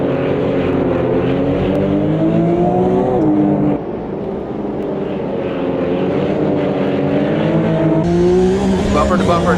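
A Porsche Cup race car at the Long Beach Grand Prix drones loudly on track, its engine note shifting pitch steadily with the front tires scrubbing through the turn, while a commentator's voice talks over it.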